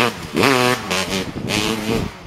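A two-stroke motorcycle engine revs in short bursts, rising and falling in pitch with a buzzy, raspy tone, loud and close with brief dips between blips.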